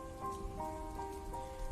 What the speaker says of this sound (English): The sound of rain outside echoed through the broken window.